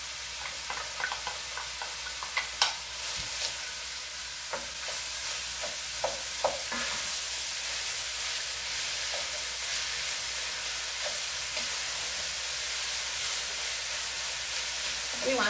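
Ground meat and onions sizzle steadily in a hot pan on high heat for a Frito pie, broken by scattered scraping clicks of a utensil stirring, close and fairly loud, with some speech faintly present.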